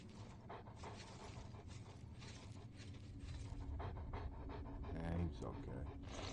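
A dog companion panting in The Elder Scrolls IV: Oblivion, a steady rhythmic breathing under gameplay noise and a voice talking throughout.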